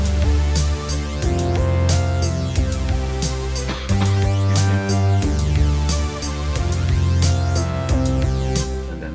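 Second synth part of a song played on a Roland JD-Xi: a steady, dense electronic pattern with a deep bass pulse, bright rhythmic hits and buzzy sustained tones, loud and continuous with no talk.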